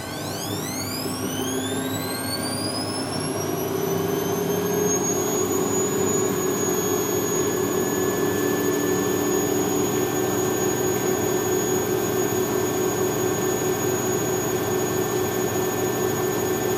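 A motor on test spins up, its whine rising steeply in pitch over the first few seconds and then holding a loud, steady high tone with a broad rushing hum, close and continuous.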